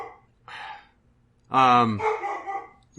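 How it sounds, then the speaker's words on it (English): A dog barks nearby in a few short, separate outbursts, with one longer, louder bark in the middle and quiet gaps between them. "What's he barking at?"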